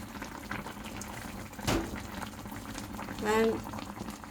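Pot of Filipino fish paksiw simmering on the stove, a steady bubbling boil with soft gurgles and a couple of louder pops, close by.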